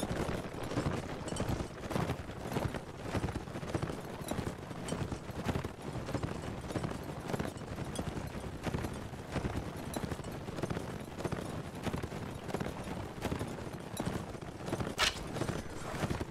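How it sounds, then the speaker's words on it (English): Massed horse hooves in a cavalry charge during a Mount & Blade: Warband battle, a dense continuous clip-clop of galloping that rolls steadily and loudly throughout with no talk over it. "Charging the enemy, and off we go like a herd of horses."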